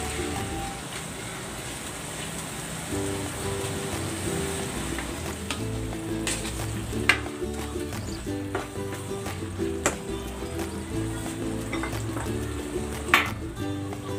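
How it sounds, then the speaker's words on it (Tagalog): Bagoong alamang shrimp paste simmers with kamias in a pan, giving a continuous soft sizzle and bubbling crackle with occasional small pops, close by and steady. "Simmer natin ito hanggang sa maluto itong kamyas."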